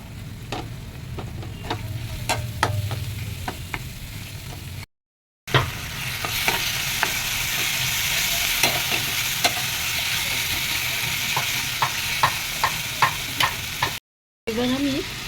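Chopped tomatoes with turmeric fry in a pan with a loud, steady sizzle. Scattered clicks of a utensil stirring run through it, and two brief silent cuts break the sound.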